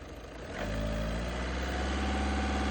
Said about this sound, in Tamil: என்ஜினோட ஐட்லிங் RPM, அந்த ரைஸ் பண்ணுற RPM சூப்பராக இருக்கு.